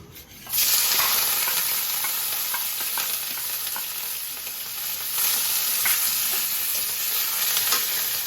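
Small shrimp frying in hot oil in a wok: a loud, steady sizzle starts abruptly after a brief quiet moment and holds close and continuous, swelling slightly midway, with no voices.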